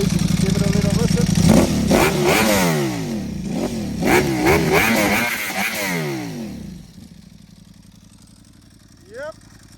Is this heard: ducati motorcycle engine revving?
yes